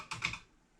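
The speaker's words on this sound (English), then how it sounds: "Keyboard seems to work." A few quick keystrokes on the keyboard of a Dragon 32 home computer, close and fairly quiet, a short burst of clicks with no voices.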